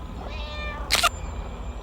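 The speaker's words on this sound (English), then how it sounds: "accidentally kicks the cat, who runs into the bush where Mikey's hiding" A cat in a film scene lets out one short, sharp yowl after being kicked, loud against a quiet outdoor background with a faint whine before it.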